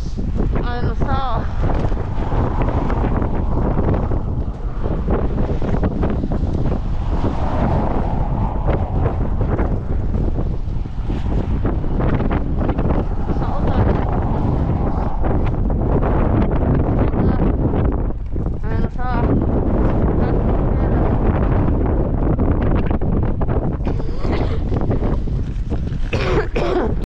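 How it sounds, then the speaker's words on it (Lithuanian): Strong wind buffets the microphone on a cold Iceland beach at the glacier lagoon, a constant roaring rumble with gusts and occasional throat-clearing and speech-like sounds throughout. "Vėjas čia vėl nerealus."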